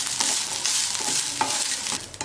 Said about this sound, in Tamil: இப்போ தேங்காய் போட்டுக்கலாம் சின்ன வெங்காயம் கசகசா எல்லாம் போட்டு கொஞ்ச நேரம் நல்லா வறுத்துக்கலாம்